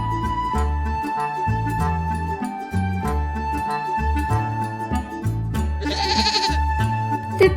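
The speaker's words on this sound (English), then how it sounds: "The billy goat." A billy goat, a male goat on a farm, bleats over steady looping background music, its cries clear and close.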